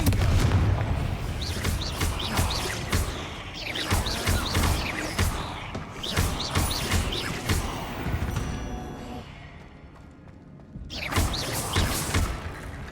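Expelliarmus spell fired during combat in Hogwarts Legacy, a burst of magical blasts, booms and crashing impacts layered with sparkling effects, recurring in waves over a dense game soundscape with a brief lull before another surge.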